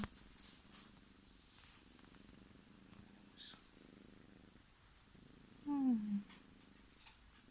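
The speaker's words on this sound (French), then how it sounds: "On arrête de ronronner." A cat purring softly and close in a low continuous rumble, broken near the end by a brief louder vocal sound.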